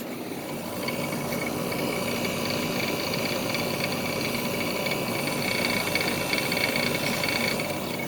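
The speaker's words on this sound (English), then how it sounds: "Compressor sound." Nearby and steady, the outdoor compressor of a SoleusAir ductless heat pump runs with a continuous mechanical hum and a faint rattle, no voices over it.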